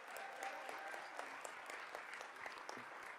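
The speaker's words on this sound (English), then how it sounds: "One more round of applause for our salutatorian and valedictorian" A round of applause at an evening Board of Education meeting for the salutatorian and valedictorian, steady hand-clapping from a room of people held at an even, moderate level throughout.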